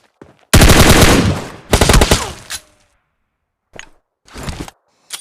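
Rapid automatic gunfire rattles out in a long burst and a second shorter burst in a battle royale video game, followed after a pause by a few quieter clicks and a brief spray of shots.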